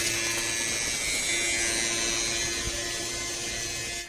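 A steady motorized whir with a fine hissing spray of water from a battery pressure sprayer, continuous and close for a few seconds before tapering off at the end.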